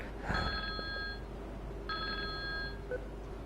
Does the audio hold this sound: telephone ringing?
yes